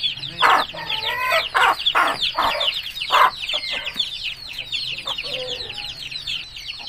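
Pure aseel roosters at a home in Mandi Bahauddin cluck loudly and close by in a run of busy, overlapping calls that fade toward the end, with faint background noise.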